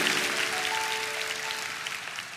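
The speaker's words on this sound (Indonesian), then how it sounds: "Kasih tepuk tangan untuk Tuhan." A church congregation applauds during worship, a thick, steady wash of many clapping hands with faint sustained musical tones held underneath, easing slightly in loudness toward the end.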